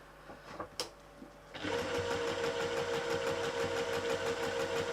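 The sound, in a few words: sewing machine stitching bag bottom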